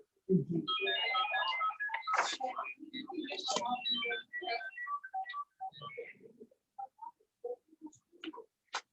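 A cell phone ringtone plays during a county commissioners' meeting, a bright, busy electronic melody running loudly for several seconds before thinning out into sparse, scattered notes.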